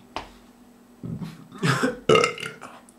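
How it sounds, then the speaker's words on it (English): A man burps several times nearby, loud and throaty, in short bursts spread over a few seconds, with no speech around them. "Beer burps, man burps are the best burps."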